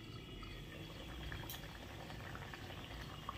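Fish simmering in a covered pan, a steady close bubbling and sputtering of boiling liquid with no pauses.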